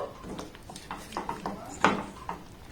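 A spoon scrapes and clinks against a pan as a vegetarian curry seasoned with garam masala is stirred, a series of soft scraping knocks with one louder clatter near the end.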